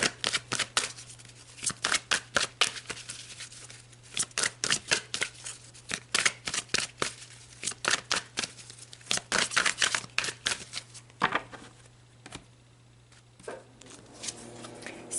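Tarot cards being shuffled close up in rapid riffling bursts, repeated in a steady rhythm for several seconds, then slower handling and a pause, with no talking.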